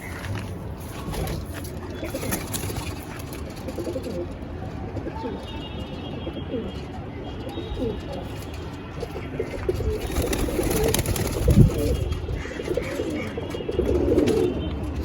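Madras pigeons coo in a loft, a steady chorus of soft, throaty calls layered over one another and running throughout, with a brief sharp knock near the end and faint background noise.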